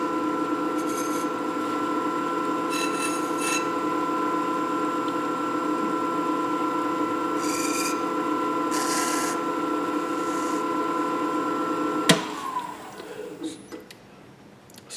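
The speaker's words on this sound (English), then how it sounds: "Stop the lathe." A wood lathe spins a turned wooden spinning top. Its motor gives a steady hum with a tonal whine, then winds down abruptly near the end of the clip.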